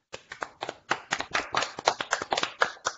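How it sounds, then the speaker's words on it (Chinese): A handful of people clap for a speaker at the end of an online talk, heard as sparse, uneven claps coming through open microphones, close and fairly quiet, without speech. "我们再来一次热烈的掌声"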